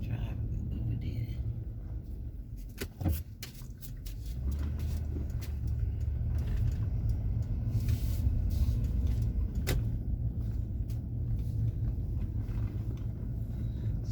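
A car drives along a road near Harborwalk Village in Destin, Florida, its engine and tyre rumble steady and close inside the cabin, with a few brief knocks and clicks along the way.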